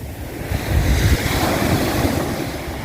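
Ocean waves break and wash up on Bang Saray beach in Sattahip, Chonburi, a broad steady surf roar with a swell in the middle, mixed with wind buffeting the microphone.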